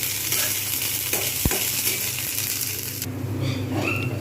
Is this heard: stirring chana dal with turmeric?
yes